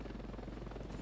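A helicopter in the video game Ravenfield gives a steady, droning rotor buzz with a low thudding pulse throughout. It sounds close and continuous, with no talk over it.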